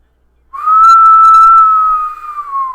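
A person whistles a single long, steady tone imitating La Llorona's whistle from Mexican folklore. The note is loud and close, held for about two seconds and sliding slightly downward at the end, with no talking.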